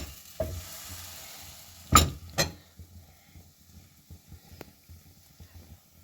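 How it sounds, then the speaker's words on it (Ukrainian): Faint sizzling of liver crepe batter in a frying pan under a few sharp clanks and scrapes of a utensil against the pan, then quieter soft taps. "Наливаю, як звичайний блінчик, розподіляю по пательні."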